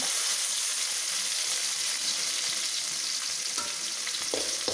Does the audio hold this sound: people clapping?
no